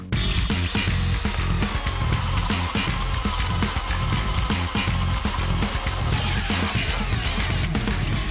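A power drill runs continuously, grinding into wood with a steady, rough whine and rumbling vibration, up close and loud, with no talking.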